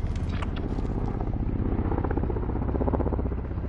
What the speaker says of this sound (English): Heads up, got a helo for us. Found a helicopter.